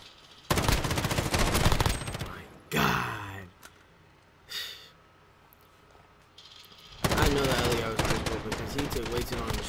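Call of Duty Modern Warfare gunfire from an MP5 or MP7 submachine gun: two long loud bursts of rapid automatic fire at the start and end, with breathy sighs and short bursts of sound in the quieter middle.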